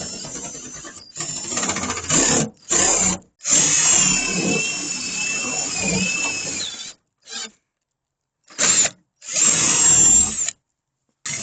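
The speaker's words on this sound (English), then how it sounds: "we're going to have to drill through the front of the one on the door" Power drill boring out the front door lock on a Ford Transit Custom van, heard close up in a series of whining bursts, long and short, separated by silent pauses.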